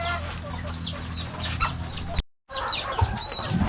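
Native chickens cluck and call outdoors at feeding time, several birds close by with overlapping short clucks and squawks and a brief gap of silence midway.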